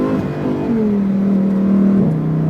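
A Lamborghini STO pulling hard on a race track, its engine note climbing steadily in a loud, close, sustained drone, with a brief dip near the end as it shifts.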